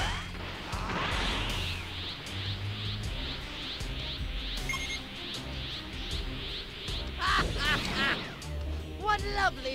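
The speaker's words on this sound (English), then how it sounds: "What lovely fireworks." Fireworks bursting in the Dragon Ball Xenoverse video game, a string of crackling and whooshing explosions mixed with game sounds, with a person talking over them.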